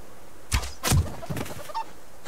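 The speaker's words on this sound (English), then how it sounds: "See the chicken." A chicken in the survival game Subsistence gives a few short clucks close by, two louder bursts followed by softer scattered calls over a quiet background.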